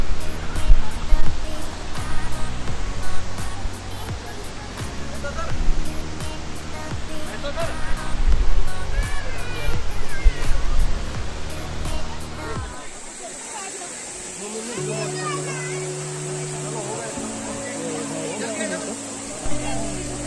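Dudhsagar waterfall in Goa during the dry summer season, a steady broadband rush of falling water under loud crowd chatter and voices nearby, the roar thinning partway through as the babble drops away.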